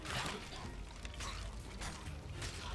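Seawater gushing through a hole in a ship's hull in the Sea of Thieves game, a steady rushing, pouring wash that fills the whole clip at low level with no break.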